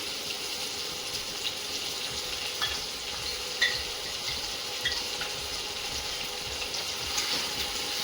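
Ginger garlic paste sizzles in a pan of already-browned onions for a ridge gourd and chana dal curry: a steady, close frying hiss with a few faint spatters and stirring clicks throughout.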